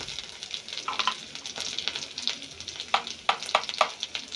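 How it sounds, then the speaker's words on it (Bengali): Ginger frying in a pan for a vegetarian potato curry, a steady hiss of sizzling oil with scattered sharp crackles and spatula scrapes, close up and without talk. "আদাটা একটু ভালো করে ভেজে নেব, তাহলে কাঁচা গন্ধটা থাকবে না।"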